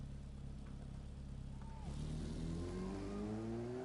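Car engine in a video game, a steady low drone that rises in pitch as it revs and accelerates after the first two seconds, close and continuous.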